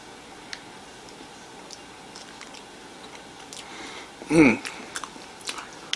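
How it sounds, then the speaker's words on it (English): A small melon-flavored cake from a treats box is bitten once, a brief, close crunchy-soft bite against a quiet room, followed by a few faint chewing sounds. "So give it a little bite here."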